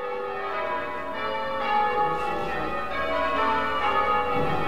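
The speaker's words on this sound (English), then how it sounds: "Can you hear the church bells ringing?" Church bells in Taunton ring continuously at Christmas, their layered tones overlapping and sustained at a moderate distance, with no voices heard.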